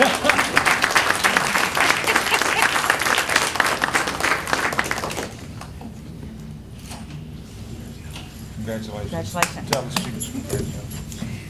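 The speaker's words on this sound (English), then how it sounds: "So let's give them a big round of applause." Audience applause at a school board of education meeting, a loud steady burst of clapping from a roomful of people that stops abruptly about halfway through, followed by quieter room noise and some talk.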